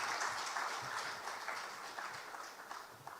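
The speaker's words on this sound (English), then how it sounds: "Shall we do one more big round of applause for him?" A round of applause from the audience at a launch event in Ghana, a soft, dense patter of many hands clapping, fairly distant and fading slightly toward the end.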